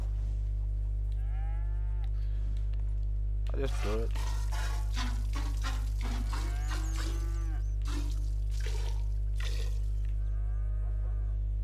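A cow being milked in Red Dead Redemption 2 lets out a long, loud moo and then a few shorter lowing calls, with someone talking briefly over the game sounds.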